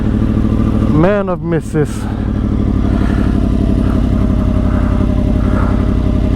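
A 2010 Yamaha R1 sport bike engine idles steadily nearby, a loud, even mechanical drone that runs the whole time, briefly dipping as someone speaks over it.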